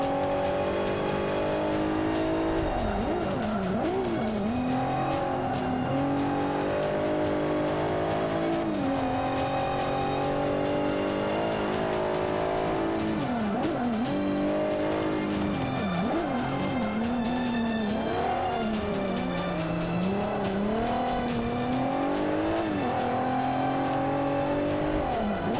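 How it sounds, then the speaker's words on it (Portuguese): Race car in Forza Motorsport 5 accelerating around Laguna Seca, engine note rising and falling steadily through gear changes with tire squeal, loud and continuous for the whole stretch with no talk. "Aí, vamos lá acelerar aqui em Laguna Seca."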